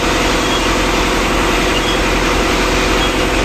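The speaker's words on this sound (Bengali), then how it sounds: "আদি যুগের ইঞ্জিন শব্দ অনেক হয় যখন ছাড়ে" An old engine drones in the engine room of a passenger launch, a loud, steady, unbroken roar at close range with no voices.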